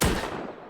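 A single gunshot in the video game Rust, one sharp close blast with a short decaying tail.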